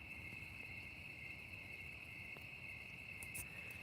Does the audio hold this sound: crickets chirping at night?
yes